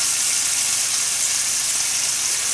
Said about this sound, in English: 8 slices of bacon is going to get you quite a bit of grease to fry the onions up in